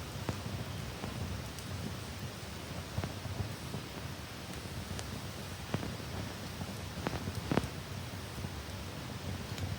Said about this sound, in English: It's been raining on and off all afternoon.